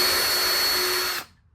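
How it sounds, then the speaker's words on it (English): A power drill bores through reclaimed wood drawer pieces, a steady high whine held for about a second before cutting off abruptly, close and alone. "I'm going to be drilling through these top pieces"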